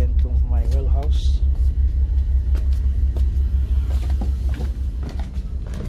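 A boat's engine idles steadily during its weekly warm-up, a deep continuous rumble filling the space close by, while a person talks over it.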